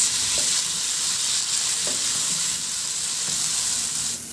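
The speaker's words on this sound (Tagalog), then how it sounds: "At ihalo lang hanggang sa maluto yung kamatis." Tomatoes stirred and cooking in a pan for kinamatisang pork ribs, a constant close frying hiss with a few soft spatula scrapes.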